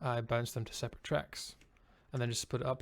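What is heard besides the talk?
No everyday noise stands out behind the speech.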